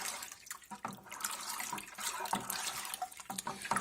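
Water pours steadily into a large batch of homemade alcohol mash, a 25-liter brew being topped up, with a continuous close splashing rush and no voices.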